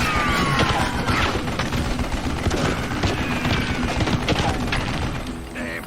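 A mounted gun fires in the video game Call of Juarez, a dense run of rapid shots and crashes with game effects layered over it, loud and continuous throughout.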